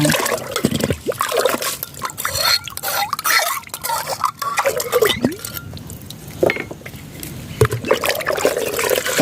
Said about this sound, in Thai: นำนะคะปุ๋ยของเรานะคะ ะผสมไปในน้ำเปล่า10ลิตรเลยนะคะ